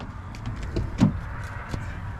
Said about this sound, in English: I don't even know if I can open this door.